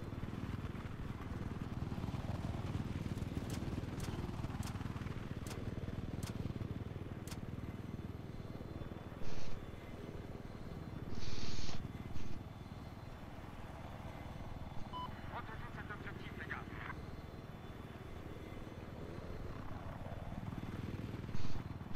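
A helicopter flies overhead in Battlefield 4 during a large Conquest match on the Siege of Shanghai map. It gives a faint, steady low rotor drone under game noise, with scattered clicks and short electronic beeps.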